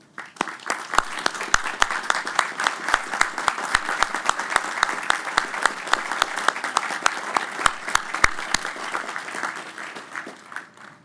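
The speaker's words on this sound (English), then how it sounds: "William R. Carter and William D. Adams, I ask both to rise for our recognition and our applause." A crowd at a university presidential inauguration convocation applauds steadily for about eleven seconds, many hands clapping in a dense, even roar that holds its level before fading at the end.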